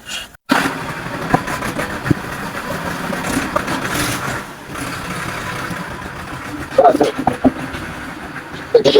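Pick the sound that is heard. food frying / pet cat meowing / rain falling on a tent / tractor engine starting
tractor engine starting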